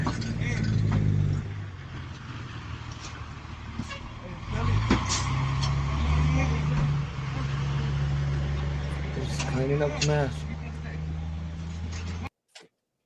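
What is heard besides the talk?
fire truck driving by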